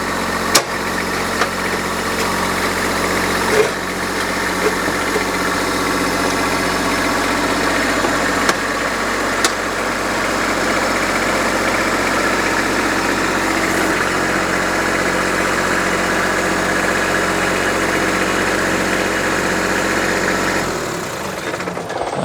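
A vehicle engine idles in low-range four-wheel drive, a steady mid-pitched drone with vibration that holds evenly for about twenty seconds, with a few light knocks near the start and the engine cutting off at the end.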